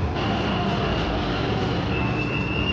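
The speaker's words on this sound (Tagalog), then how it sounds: "Mayroong train dito." Airport shuttle train at Incheon arrival heading toward immigration: a steady, loud rolling rumble with a high whine, continuous throughout and no talking.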